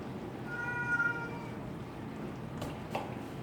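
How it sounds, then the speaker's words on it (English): A pet house cat gives a clear, drawn-out meow near the microphone indoors, followed by a couple of brief clicks and small handling sounds in a quiet kitchen. "that is my little kitty cat"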